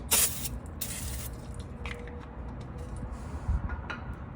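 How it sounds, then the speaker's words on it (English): Brake cleaner sprays in short hissing bursts onto the rear brakes of a car. The first blasts are loud and close, followed by quieter hiss and dripping. "So now what we're gonna do is we're gonna take the brake cleaner."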